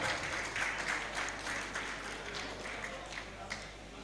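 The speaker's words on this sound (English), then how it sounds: "can we have a big round of applause?" Applause at a golf tournament prize ceremony at Boulder Hills Golf & Country Club for the three joint runners-up, a steady wash of crowd clapping with faint talk mixed in.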